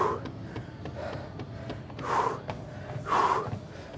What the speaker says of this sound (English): Catch your breath.